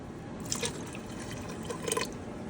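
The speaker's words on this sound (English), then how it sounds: "Just adding in the vinegar. It's 1 cup." Vinegar poured into a hot pepper mash, one cup at a time, gives a steady wet trickle with a few brief drips, close and quiet, with no talking.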